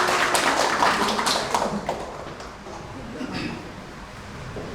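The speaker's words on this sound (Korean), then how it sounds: "박수로 모시겠습니다" Audience applause welcoming a speaker at a Korean education forum, fairly loud scattered clapping at first that fades to quieter sound, with talk in the background.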